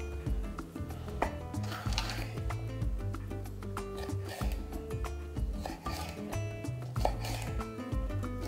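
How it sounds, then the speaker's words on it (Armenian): Vegetables for spring rolls are cut into cubes with a knife, giving a run of quick, close, uneven thuds on a board alongside light scraping and clinks, with no talking. "Եվ կտրատում ենք խորանարդիկների։"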